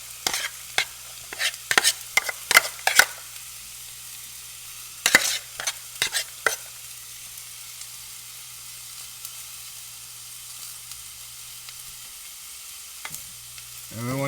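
Cold rice being stir-fried with pork, peas, carrots and garlic, with bursts of scraping spatula strokes against the pan over a steady low sizzle, then a long quieter stretch of gentle frying before a few more stirs at the end.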